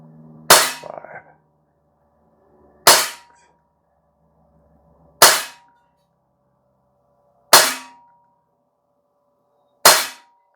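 An ASG 1911 US-C CO2 blowback BB pistol fires five evenly spaced, sharp, loud cracks with metallic target hits, each decaying quickly into near silence.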